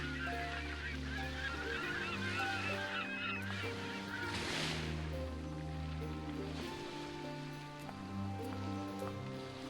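A bird in a point-and-click adventure game gives repeated honking, goose-like calls over a steady musical score with a patter of rain, continuous and moderately loud without talk.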